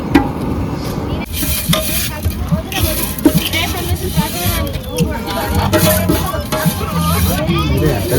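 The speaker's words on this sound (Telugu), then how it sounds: "అదేంటిది సేమియా ఉప్మా చేస్తున్నారు" Semiya (vermicelli) upma cooking in a pan at the Medaram Sammakka Sarakka jathara, with sizzling and repeated scraping stirs under ongoing nearby talk and crowd murmur.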